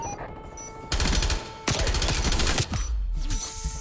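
Rapid automatic gunfire in Call of Duty: Black Ops Cold War multiplayer comes in loud, close bursts, with brief lulls between volleys.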